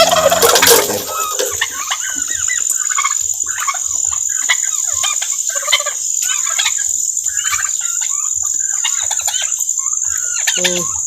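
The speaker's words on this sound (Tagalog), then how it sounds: "Tingnan mo pabo kamaster." Turkeys gobble and call repeatedly at a farm with chickens, a busy cluster of fowl vocalizations close by, with a voice briefly heard at the start.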